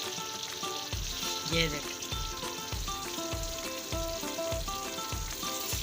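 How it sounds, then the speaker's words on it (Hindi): Masala spices frying in a pan for a kofta curry gravy make a steady sizzle with regular rhythmic stirring pulses. A voice speaks briefly over it. "ये अब मसाला भुन गया बिल्कुल।"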